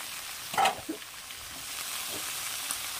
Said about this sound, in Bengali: পালং শাকের শীষটা দিয়ে দিলাম, ভেজে দিলাম।